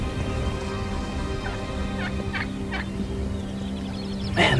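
Several wild turkey gobblers on a roost gobble in short rattling bursts, three or four calls rising over a steady background hum, one louder gobble close by at the end.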